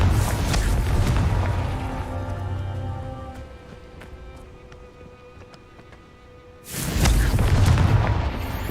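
Confringo explosion spell cast in Hogwarts Legacy: a loud, booming blast opens, a ringing tonal hum lingers, then a second heavy explosive burst erupts near the end.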